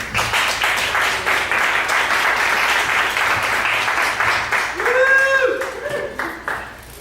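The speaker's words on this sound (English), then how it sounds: "like standing up and doing a round of applause" An audience claps loudly and steadily, then the applause thins out while a voice briefly calls out near the end.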